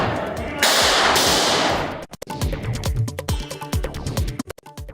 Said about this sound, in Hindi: अंदर से गोलियां चलने की आवाज भी सुनाई